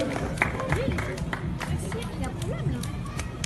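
A crowd at a Swiss soapbox race claps and cheers in a scattered burst, with a babble of voices and an announcer talking over the applause.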